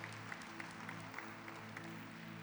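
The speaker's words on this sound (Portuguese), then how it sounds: "Você pode aplaudir a Jesus, glorificar a Jesus." A congregation at a church service applauds steadily, a dense wash of clapping with a few sharper claps standing out, continuous throughout.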